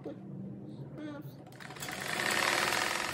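A sewing machine runs in a steady buzzing stitch as fabric seams are sewn for a simple cat-shaped doorstop, starting quietly under a woman's speech and growing louder and denser toward the end.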